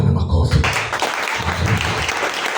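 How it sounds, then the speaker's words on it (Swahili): A congregation at a pastors' seminary session claps for the Lord, with steady crowd clapping mixed with voices and low rumbling noise from a large room. "Pigie Bwana makofi."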